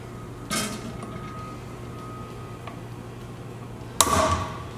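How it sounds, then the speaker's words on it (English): Two sharp metallic strikes from a hammer driving a socket against the outer race of a Z1R wheel bearing, spaced a few seconds apart with quiet shop hum between. "Want to make certain that you're using good sharp hits, no little taps, because you want it to move each time."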